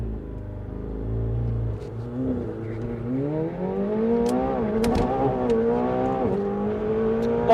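A McLaren 720S launches at a drag strip, its engine note rising unevenly with a low, stuttering drone as it bogs down, loud and close with no talk over it.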